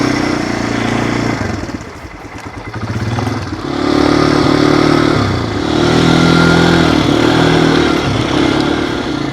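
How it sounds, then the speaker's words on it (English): An ATV quad bike's engine runs on a jungle nature-retreat track, a loud, close, steady drone that dips briefly then revs back up and holds, with no voices over it. "Trying the ATV bike now."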